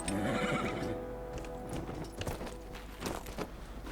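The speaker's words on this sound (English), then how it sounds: "I've got a horse, might as well use it." A horse in the video game Dragon Age Inquisition gives a clear neigh, followed by a run of rhythmic hoof clip-clops close by, with no voices over it.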